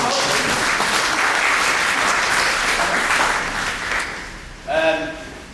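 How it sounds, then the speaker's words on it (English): Sustained round of applause from a book launch audience, dense clapping that thins toward the end as a voice briefly cuts in. "a round of applause for Lee"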